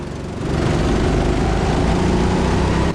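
Go-kart engines race at TeamSport Sheffield, a loud, steady, buzzing drone that holds close and continuous from about half a second on.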